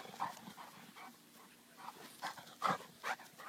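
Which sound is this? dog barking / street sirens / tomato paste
dog barking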